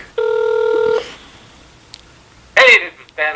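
A telephone keypad sounds one steady electronic tone for almost a second while a number is dialled. It is followed by quiet room noise, then a brief burst of speech near the end.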